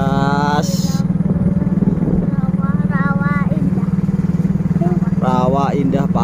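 A small tourist boat engine on a swamp lake at Rawa Indah, Pasuruan, carrying passengers, runs loud and steady throughout with a constant low drone, while people talk and call out over it.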